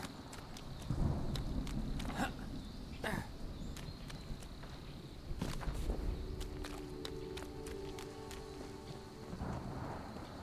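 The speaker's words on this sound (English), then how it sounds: "Oh, there goes our rain." Steady rain falls in the video game Smalland: Survive the Wilds, with distant rumbles of thunder and scattered footsteps, while a voice speaks briefly in the background.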